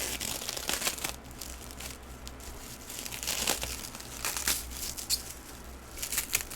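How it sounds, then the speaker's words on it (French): Packaging crinkles and rustles softly as a PS3 collector's edition is unboxed, with faint, irregular crackles and small tearing sounds at low volume. "J'achève de déballer, hein."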